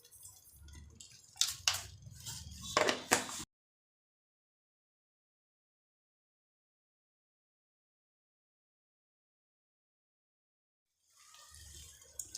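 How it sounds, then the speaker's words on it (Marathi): Water from a mixer jar is poured into lasooni palak paneer gravy in a short, splashy pour of about three seconds. Silence follows, then faint kitchen noise returns at the end. "हे बघा, हे मिक्सरच्या भांड्याचं पाणी घालते."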